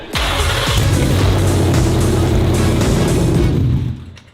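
A homemade mini V8 engine fitted in a scaled Ford Raptor R build fires up, running at a loud, steady roar for several seconds before cutting out near the end.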